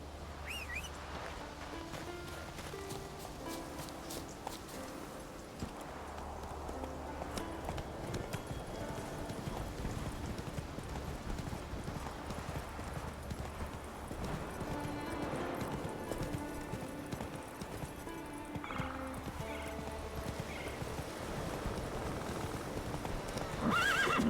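Horse hooves clip-clopping steadily in a video game, with occasional whinnies and snorts, some birdsong in the background, and a person talking now and then.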